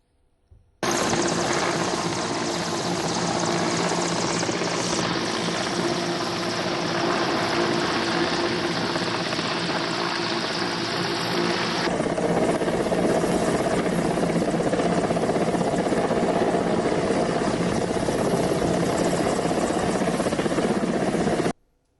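An army helicopter flies during a rescue, its loud continuous rotor and engine roar holding steady close by for about twenty seconds, shifting slightly in tone midway, with no voices.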